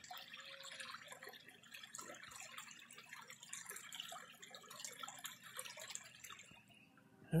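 Water drips and trickles faintly as a horn coral fossil is rinsed beside a creek in southern Ohio, soft irregular splashes at a distance, with a sudden louder knock right at the end.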